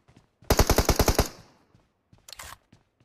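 Automatic gunfire in the mobile battle-royale game PUBG Mobile: a loud rapid burst of about eight shots with a short decaying tail, then a brief fainter burst, with no talking over it.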